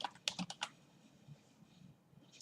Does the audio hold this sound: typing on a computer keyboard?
yes